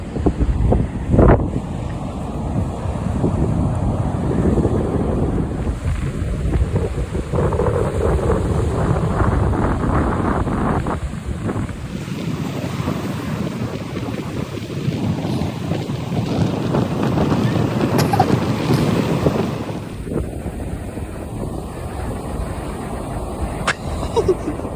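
Strong winter beach wind roars and buffets the microphone continuously, a loud rumbling blast with surf-like wash underneath and occasional gusts, while indistinct voices sit in the background.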